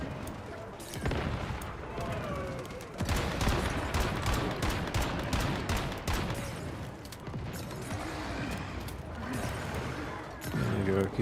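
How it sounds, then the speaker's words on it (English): Enemy grenade blasts and bursts of gunfire in the survival shooter game Once Human, a dense, continuous barrage of cracks and booms lasting throughout, with a voice talking over the combat. "They're throwing grenades"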